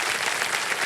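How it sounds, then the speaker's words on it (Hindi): Studio audience applause at the Kaun Banega Crorepati game show, a dense, steady wash of many hands clapping at once, loud and close, with no break over the short stretch. "जोरदार तालियां बज जाए विप्लव जी के लिए और उनके साथी जो कंपेनियन के रूप में आए हैं"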